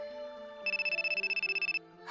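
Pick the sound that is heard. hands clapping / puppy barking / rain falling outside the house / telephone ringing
telephone ringing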